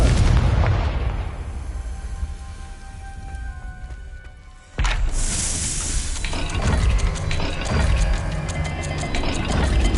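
An explosive spell blast goes off in a Hogwarts Legacy maze. It starts with a rumbling, decaying boom, then a sharp new impact bursts in halfway through, followed by crackling, rattling debris. Loud and close, with no voices.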